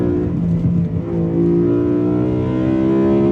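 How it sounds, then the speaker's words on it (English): A BMW E92 M3's engine holds a loud, steady, close-up note under load while the car drives, its tone rising slightly as revs climb, with no talk over it. "I just can't get over the sound of this motor."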